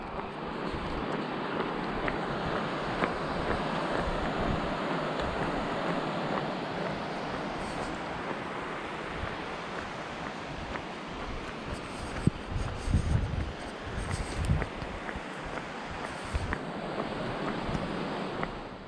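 The Salmon River on Vancouver Island flows in a constant broad rushing roar, close and loud, with wind buffeting at times and no break in the water noise.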